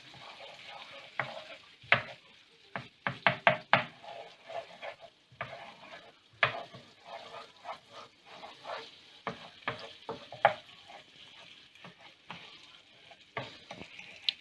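Butter sizzles in a pan for Vegemite pasta while a utensil stirs and scrapes, giving irregular clacks and taps over a faint, steady frying hiss.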